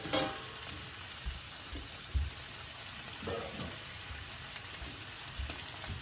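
Onions and bacon fry in a thin cast-iron French sauté pan, a soft steady sizzle running throughout with a few louder crackles and stirring bumps.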